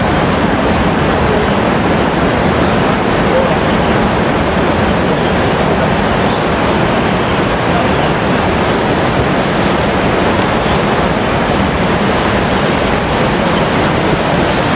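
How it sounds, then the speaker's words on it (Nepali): Muddy water rushes down a landslide near Dharan on a rainy day, a loud, continuous broadband roar close by that stays steady throughout without breaks. "यो पहिरोमा चाहिँ पुरै धमिलो पानी बगेर आइरहेको हामी देख्न सक्छौँ"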